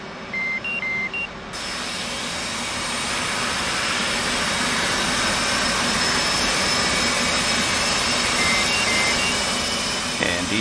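A steady, loud jet engine roar from an F-18 in the DCS flight simulator game fills the whole stretch, with a few short electronic beeps near the start and again later.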